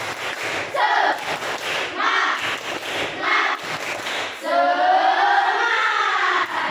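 Children shout a rhythmic spirit clapping chant, bursts of loud group voices with claps in a steady pattern, ending in a sustained unison shout.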